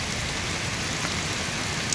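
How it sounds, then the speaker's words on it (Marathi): Steady heavy rain pouring down, a dense continuous hiss of drops drumming on surfaces, with no voices. "पाऊस अजूनही जोरदार चालू आहे"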